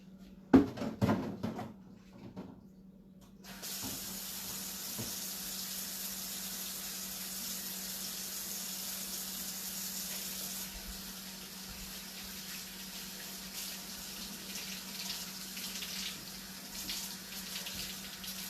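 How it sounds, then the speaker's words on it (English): Tap water runs steadily into a kitchen sink while hands are washed during tortilla making, a close, even hiss lasting most of the clip after a few clattering handling sounds at the start. "Let me wash my hands real quick."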